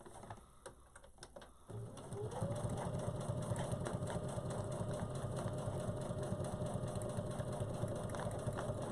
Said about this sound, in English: you do not want to break your needle on your sewing machine.